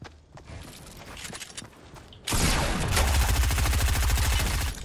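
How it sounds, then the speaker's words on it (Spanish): Gunfire in the video game Fortnite: scattered shots and game noise give way to a loud, sustained burst of rapid automatic fire that hammers on for several seconds. "¿Por qué me dispara a mí?"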